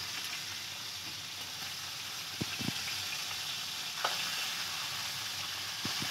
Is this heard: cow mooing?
no